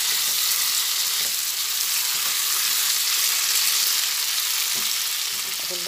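Pointed gourd sizzling in hot oil in a pan while being stirred, a dense steady hiss with light scraping, close and continuous, no voices.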